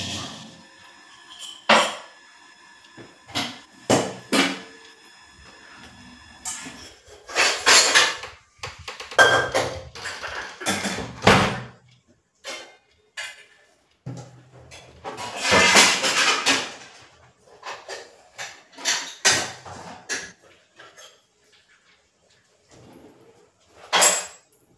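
Washed pots, pans and dishes being stacked away in a home kitchen: scattered metallic clanks, clatters and knocks come in irregular bursts, loud up close, separated by short quiet gaps.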